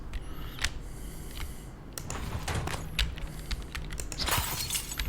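Objects hurled into glass in the Prey video game, a run of sharp cracking impacts and shattering bursts over a busy mechanical background, loud and close, with no speech.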